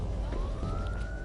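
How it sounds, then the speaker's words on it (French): Police car siren rising in a long smooth wail over a heavy rumbling low background, fairly loud and steady throughout. "Dès que j'ai entendu la sirène, j'ai compris que les flics étaient en route."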